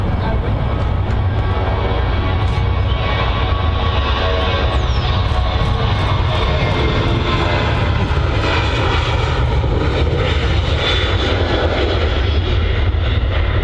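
An airliner on a long takeoff roll at Manchester Airport, with a loud, sustained jet engine roar and rumble that holds steady and strong from start to finish and no clear talk.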